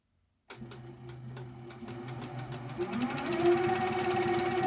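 A sewing machine starts up after a brief silence and runs a fast, rhythmic mechanical stitching patter that speeds up as locking stitches are taken at the start of a quilting run.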